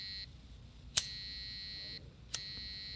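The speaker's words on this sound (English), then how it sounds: "if we put the fire to the sensor, the buzzer goes off" A flame-sensor alarm buzzer sounds a steady high-pitched electronic tone alone, cutting off briefly once, with two sharp clicks as it switches.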